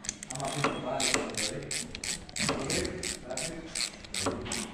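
A ratchet wrench clicks in quick bursts while bolts are tightened on a Honda Innova motorcycle engine, close-up and rhythmic, the strokes repeating in uneven groups of sharp metallic clicks.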